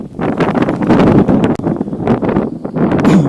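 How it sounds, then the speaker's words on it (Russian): Strong, gusting wind out on sea ice during a frozen navaga fishing trip, buffeting the microphone with loud, irregular rumbling bursts throughout and no talk. "Ветер, ребята, еще больше усилился."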